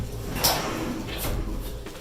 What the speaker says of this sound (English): If we close this door